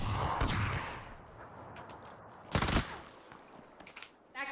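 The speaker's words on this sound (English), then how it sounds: "That guy shot him." Gunfire in a PUBG match, a few sharp shots with a louder close burst in the middle and a quick rattling volley at the end, set against a quiet background.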